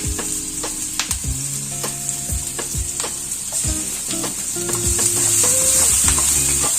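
Chopped green chillies and onions sautéing in a hot pan, a loud steady sizzle broken by repeated scraping stirs and clinks close up, the frying growing fuller toward the end, no talking.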